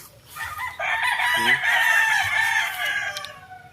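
Roosters crow nearby in a single long, clear call over a faint background of other fowl.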